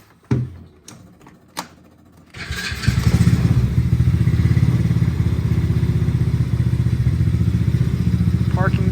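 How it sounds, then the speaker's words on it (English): A 125cc mini jeep engine idles and then revs into a steady, loud running drone during a test drive, with a few thumps and rattles at the start before the engine settles in. "Alrighty, time to do a test"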